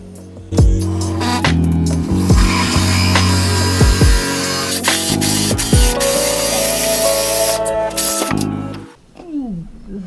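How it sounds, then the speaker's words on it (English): Loud, close drilling into a wooden door with rough grinding bursts and short pauses, the motor starting and stopping several times before winding down. "Drilling a hole into the door right now."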